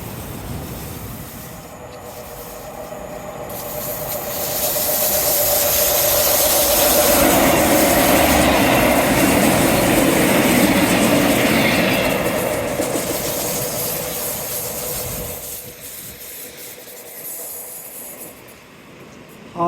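A train runs along the seawall at Teignmouth, rumbling louder as it draws close, with rhythmic wheel clatter and some squeal, then receding into the distance.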